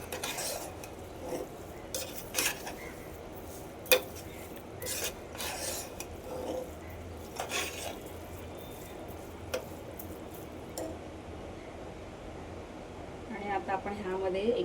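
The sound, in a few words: stirring carrot halwa with sugar in pan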